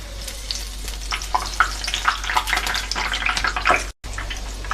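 Batter dropped into hot oil for homemade fried snacks, a loud, continuous bubbling sizzle with crackling bursts close up, broken by a brief cut near the end.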